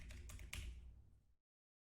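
Several quick keystrokes clatter on a computer keyboard in a brief, close burst, then stop into silence, with no voices.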